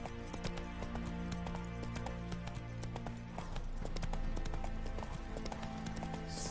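Horse galloping in The Witcher 3 video game, a quick steady clip-clop of hooves with faint background ambience, quiet overall.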